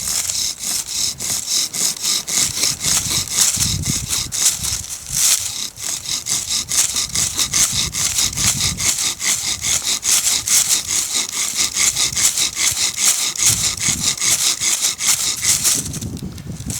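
Natural fiber cord on a bow drill spins a wooden spindle with steady back-and-forth strokes, producing a continuous rasping, sawing friction noise. It is close and loud, with rhythmic pulses from each stroke and no talking.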